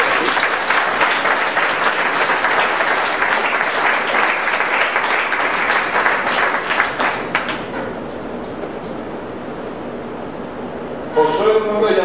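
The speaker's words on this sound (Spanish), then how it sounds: "Dale un aplauso al Señor." Congregation clapping in a church service, a loud sustained burst of applause from a crowd that thins out and fades toward the end, with a voice breaking in at the close.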